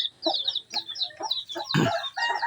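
A large mother hen and her chicks cluck close by, a steady run of short, soft calls with high peeping notes woven through and one louder burst partway along.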